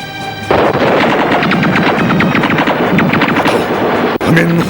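Rapid bursts of machine gun fire crackle continuously, loud and close, with a brief pause near the end before firing resumes.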